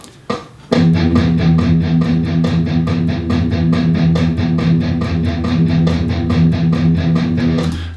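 Metal rhythm guitar alternate-picks a steady run of quarter notes, each attack evenly spaced and loud, with a thick distorted tone held throughout and no talking.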